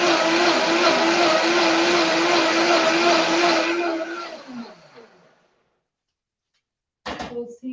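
A blender whirs loudly and steadily while blending a BBQ jackfruit sauce, then winds down and stops, followed by a brief clatter as it is handled.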